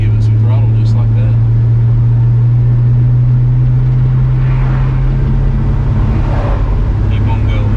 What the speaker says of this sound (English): Just slowly give it some throttle just like that.